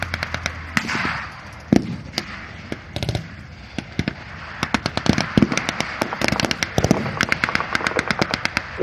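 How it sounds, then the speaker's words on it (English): A German half-track fires blanks at a WW2 re-enactment at Military Odyssey, mixed with other gunfire from the battle. Sharp bangs ring out in bursts and rapid rattling volleys, loud and near against an open-air background. "And the German half-track fires into the Allied troops."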